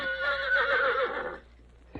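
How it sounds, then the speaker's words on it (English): A beautiful black horse lets out one strong, close neigh lasting over a second with a wavering, descending tone, then quiet follows. "admiring a beautiful black horse"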